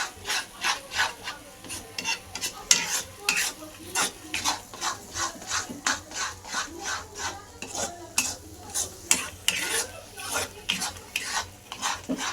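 Besan with coriander cooks in a pan while a spoon scrapes and stirs it in a regular back-and-forth rhythm, each stroke a distinct raspy rub close up over a faint sizzle.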